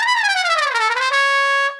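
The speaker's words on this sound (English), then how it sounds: "the maker of the SWAM instrument, which sounds like this" Physically modeled SWAM virtual instrument played on an iPad, producing a single sustained melodic line that glides downward and then settles on a held note, rich in overtones, close and alone with no talking.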